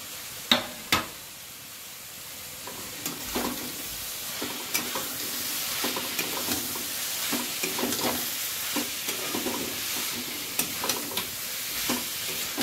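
Shredded boiled chicken frying in an oily spice masala sizzles continuously, with repeated sharp scrapes and knocks of a spatula stirring the pan throughout, close and moderately loud, no talking.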